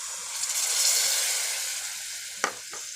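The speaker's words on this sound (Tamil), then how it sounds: "நான் நல்லா ஒரு எலுமிச்சங்காய் சைஸுக்கு புளி கரைச்சி வச்சுருக்கேன். அதை இதில் ஊற்றிடலாம்." Steady frying sizzle and hiss from a pan of citron pieces cooking for a ginger pachadi as tamarind water goes in, with a couple of brief clinks near the end.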